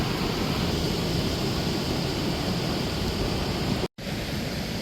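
Mersey River water flowing in a steady, loud broadband rush that fills the whole stretch, broken only by a brief dropout just before the four-second mark.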